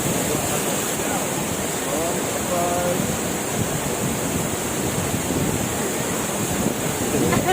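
Pulang Bato Falls in Valencia, Negros Oriental, a constant loud rush of falling water close by, with wind buffeting the microphone and faint voices in the background.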